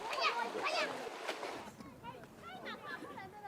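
Fresh water splashing and pouring into desert salt leaching pools, an uneven wet gush heard under people talking nearby.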